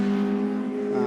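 Race cars lap a circuit near the checkered flag, their engines holding a loud, steady drone at a constant pitch throughout, with no clear pass-by swell.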